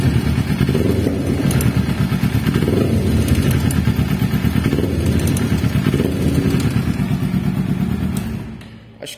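A Kawasaki Ninja 250 motorcycle engine idling and revved up close, with a loud continuous rumble and a light ticking from the engine that began after an oil change.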